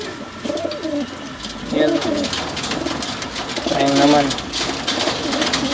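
Pigeons cooing in a home loft, soft repeated throaty coos over steady background noise, with someone speaking briefly nearby.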